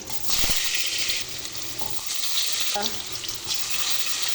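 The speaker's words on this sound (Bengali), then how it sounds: "দিলাম তেল বেগুনটা বাজিয়ে নিলাম" Eggplant and vegetables fry in hot oil in a pan, a steady close sizzle running throughout with occasional stirring scrapes and clinks, no voices.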